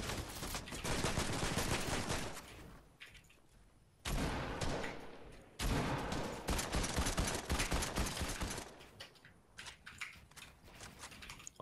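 Sniper fire in Fortnite rings out in rapid bursts of loud, sharp shots, with heavy volleys around the start and middle separated by brief lulls.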